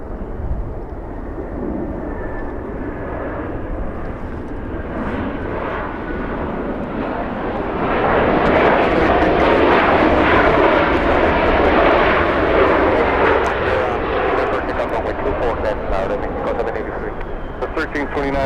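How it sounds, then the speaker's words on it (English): An Embraer E175 airliner touches down at Los Angeles International Airport, its engine roar building from a steady distant hum to a loud, broad rush that lasts to the end. A voice speaks over it. "E175 about to touch down"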